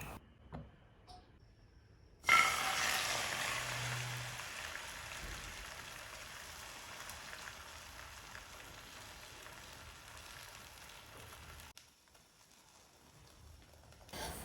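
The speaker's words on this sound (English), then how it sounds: "pour it in the pan, fry this for 2 minutes in a low heat" Dough sizzles in a pan over low heat for a healthy low-calorie breakfast, a soft, even frying hiss that starts abruptly, runs steady and faint for about nine seconds, then cuts off.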